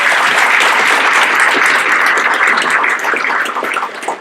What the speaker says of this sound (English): Nice round of applause for our guests.